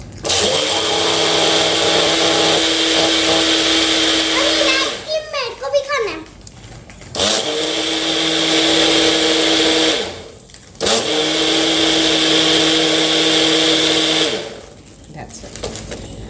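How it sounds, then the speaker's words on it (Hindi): A loud blender whirs while making cold coffee, in three bursts, each running a few seconds before stopping, with brief rattles and pauses in between. "उसके बाद ऐसे हमने ब्लेंडर में लगाना है"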